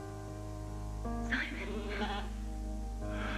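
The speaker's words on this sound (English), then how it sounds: "Yeah, they're sheep. My little lambs." Sheep and lambs bleating, a few short wavering calls at a moderate distance over a steady low hum, with no talk.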